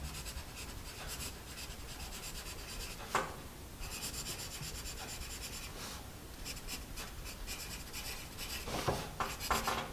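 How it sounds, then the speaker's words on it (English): Soft-core pencil dragging across paper, a quiet continuous scratchy rubbing with short pauses and uneven strokes, close up and alone. "the pencil write on the paper as the core drags across and gets pushed and pulled across the surface of the paper"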